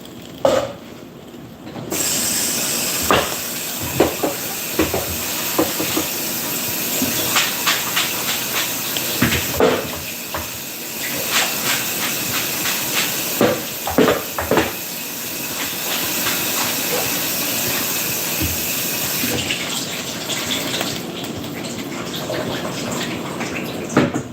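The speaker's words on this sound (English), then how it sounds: "Let's rinse these off, because again, you don't know what's on there." Dishes rinsed under a kitchen tap, a loud continuous hiss of running water with scattered clinks and knocks of crockery throughout.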